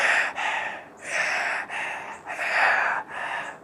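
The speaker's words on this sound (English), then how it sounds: "you can hear him breathing" Heavy breathing from an actor into his lapel microphone at a fan convention panel, with about six close, loud, airy breaths in steady succession and no speech.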